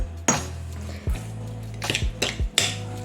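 Metal utensils clink and scrape against a bowl while mixing seasoned chicken, a few sharp knocks, close and clear, with a low steady hum underneath.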